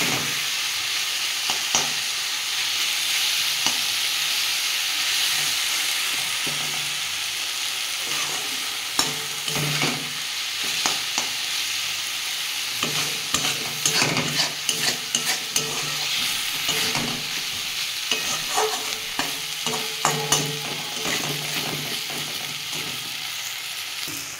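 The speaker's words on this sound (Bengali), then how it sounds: "এবার আমি একটু ভেজে নেবো, তাহলে আমার হয়ে যাবে।" Radish greens (mulo shak) frying in a pan, a continuous steady sizzle with repeated scraping and clinking of a spatula stirring, close and alone without talk.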